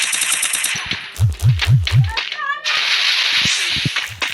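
Gunfire from a video game: a short rapid burst of shots, then a few booming thumps and scattered bursts, loud and close, with a voice speaking briefly in between.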